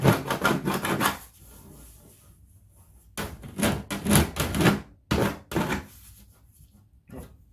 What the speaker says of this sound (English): running the deburring tool across it